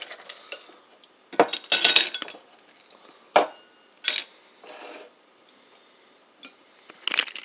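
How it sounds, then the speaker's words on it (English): Ice cubes dropped into a cup while making iced carbonated coffee, landing in several separate clinking bursts with short pauses between, close and fairly loud, no talking. "you take the ice cubes you put into this cup"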